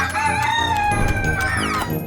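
A rooster crows in one long, drawn-out call, rising and then trailing off, over light background music.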